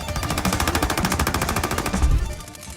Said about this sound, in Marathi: हादरवून सोडणारा काळजात धडकी भरवणारा आवाज आहे एम पी फाईव्ह सब मशीन गन